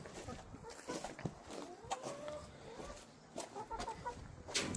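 Backyard hens in a coop clucking and chattering close by, with repeated short calls and occasional louder squawks scattered through, fairly quiet overall.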